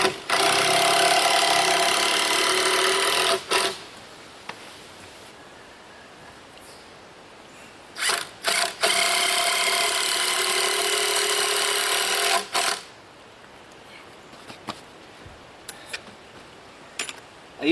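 A power tool whirs in long bursts, driving screws into DIY adjustable solar panel roof brackets, close and loud, with quiet pauses and small knocks between runs.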